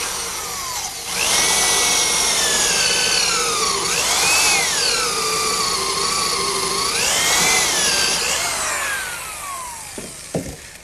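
A power drill bores a 1.25 inch counterbore into wood for a lag bolt, a loud whining motor that rises and dips in pitch through two bursts of cutting, then winds down with a couple of small knocks.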